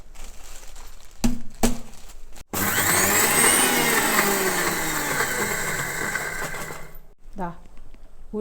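A mixer grinder grinds roasted asafoetida, fenugreek and dried chillies fried in coconut oil, roaring loudly and steadily for about four seconds after a few short clicks, then cutting off abruptly.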